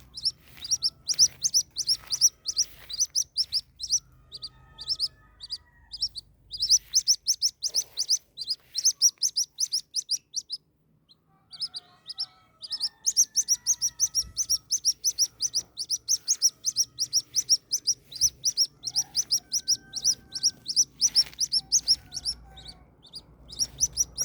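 White-breasted waterhen chicks give rapid, high, repeated chirping calls in dense bursts, close and clear, with a short quiet gap midway before the chirping resumes.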